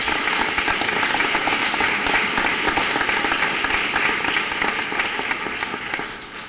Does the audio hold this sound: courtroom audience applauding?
yes